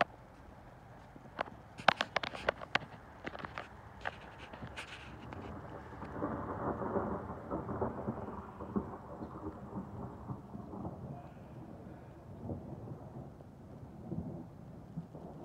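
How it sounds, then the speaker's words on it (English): Distant rolling thunder rumbles low and long as a thunderstorm gathers, preceded by a few sharp, close knocks and clatters in the opening seconds. "You can already hear some thunder."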